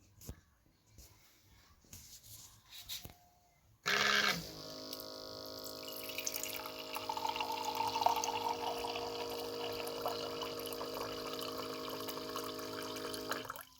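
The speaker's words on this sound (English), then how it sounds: "it'll pump water into the cup" A steady mechanical pump hum starts abruptly after a few quiet seconds, with water trickling and splashing into a cup, continuous and fairly close.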